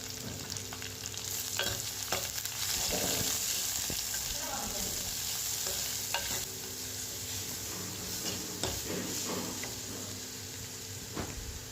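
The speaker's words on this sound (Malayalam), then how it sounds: "ഇഞ്ചി വെളുത്തുള്ളി പച്ച ചെറിയുള്ളി പച്ചമുളക് അതെല്ലാം കൂടെ ചേർത്ത് കൊടുക്കുക എന്നിട്ട് അത് നന്നായിട്ട് വഴറ്റിയെടുക്കുക" Ginger, garlic, shallots and green chillies sautéing in a pan for a prawn mango curry: a steady close sizzle of frying with repeated scraping stirs throughout, no talk.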